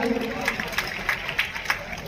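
Applause at a student result celebration in a hall in Patna, an audience clapping at a fairly quick, steady rhythm with sharp individual claps, moderately loud and slightly distant, under a low murmur of voices.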